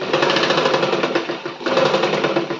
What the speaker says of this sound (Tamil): நம்ம வந்து ஸ்ட்ரைட்டா ஒரு தையல்.